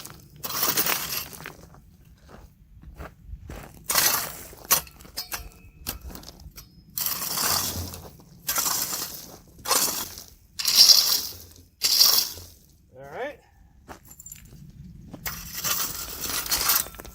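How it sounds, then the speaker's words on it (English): Heavy rocks raked off bedrock in a desert wash while gold prospecting, with repeated scraping and clattering bursts separated by pauses, close and moderately loud with no talking. "we'll go ahead and just kind of rake off some of these heavier rocks"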